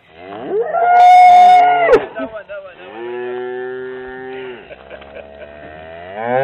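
Cows in the countryside moo loudly and close by, several long drawn-out bellows one after another.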